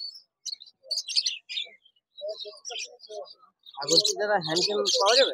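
Exotic caged birds at the Dakshineswar bird market give sparse, high chirps and tweets in short bursts, then a denser, louder flurry of calls mixed with voices near the end.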